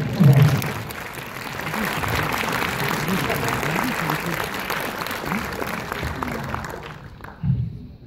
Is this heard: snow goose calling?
no